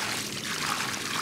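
Water pouring steadily in a continuous splashing trickle, close and fairly loud, with no talking over it.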